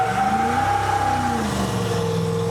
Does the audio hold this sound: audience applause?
no